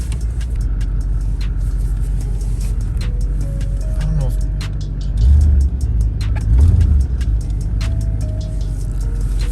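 A 1992 Chevrolet Camaro Z28 drives along with a steady low engine drone and road rumble, swelling briefly as it pulls harder, while someone talks over it inside the car.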